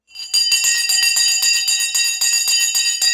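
A bell rung repeatedly for a live-stream super chat, bright metallic strikes in a fast, even rhythm that ring on loudly for about three seconds.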